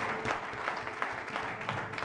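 A church congregation breaks into sustained applause during a French-language sermon, many hands clapping densely and fairly close, with no talking over it.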